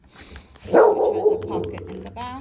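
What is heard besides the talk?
dog barking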